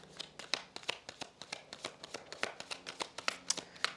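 Tarot cards shuffled for a Celtic cross spread, giving a quick, rhythmic series of crisp card flicks and taps, close and clear with no talking.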